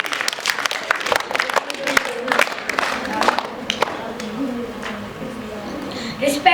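An audience at a school English poem recitation competition applauds a class 4 pupil, dense clapping running steadily throughout with a slight swell at the end, with faint talk underneath.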